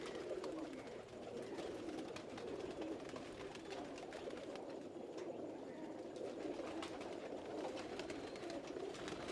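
Soft, low cooing of several pigeons blends into a constant hum of ambient noise, faint and continuous across the whole stretch.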